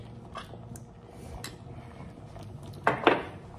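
A spoon stirs mayonnaise, horseradish and Dijon mustard together in a bowl, giving soft scrapes and a few sharper clinks against the dish, quiet and close with no talking.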